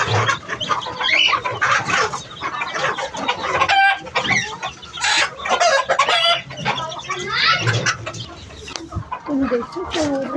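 Chickens and a rooster on a home farm cluck and squawk repeatedly near and loud, with bursts of agitated calls under someone talking intermittently.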